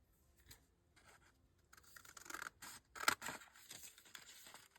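Scissors cut a paper flip-up journal page in a few close, crisp snips and rustly slicing strokes, faint at first and then louder, with no voices.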